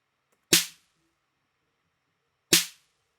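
Two sharp, isolated percussive beats land exactly two seconds apart, one beat per bar at 30 beats per minute. Each hit is crisp and short, with silence between them.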